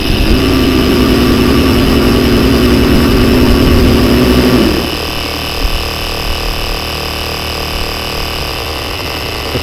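Rechargeable electric pumps, including an Outdoor Master unit, inflating a kayak and paddleboards: a loud, steady motor drone that cuts out about halfway through, leaving a quieter continuous hum from another pump.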